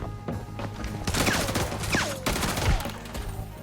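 Suomi submachine gun firing in the shooter game Arena Breakout, loud continuous rapid bursts at close range with brief gaps, alone without talk.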